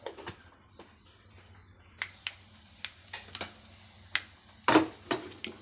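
Mustard seeds splutter in hot coconut oil in a pan, with scattered sharp pops that start sparse and come faster and louder, including a cluster of crackles near the end.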